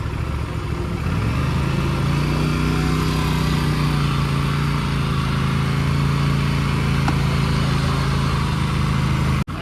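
An Aprilia RS 457 motorcycle runs in sport mode with a loud, close engine drone, its pitch climbing as it revs up and then holding a steady, sustained tone until it cuts off abruptly at the end.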